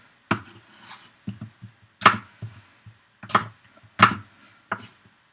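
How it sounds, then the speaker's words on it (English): A knife slices through a firm apple on a cutting board, with five or six crisp crunching cuts at uneven intervals, close and distinct with no talk. "That's literally the hardest part of this entire dish, is cutting an apple."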